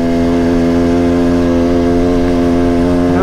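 KTM 300 two-stroke dirt bike engine riding through mud and fresh snowmelt, a loud, steady, buzzing drone close by with strong harmonics, rising slightly in pitch at the very end.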